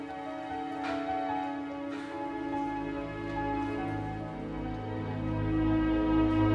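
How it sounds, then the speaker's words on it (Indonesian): School bell in an animated children's series ringing on and on, a bright, sustained metallic tone that swells slightly and does not stop, with no voices over it. "Itu kan bel udah bunyi."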